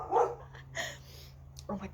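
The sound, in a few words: dogs barking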